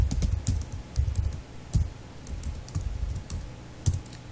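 Computer keyboard being typed on while writing C code, a close run of quick, uneven key clacks and taps with short pauses between bursts.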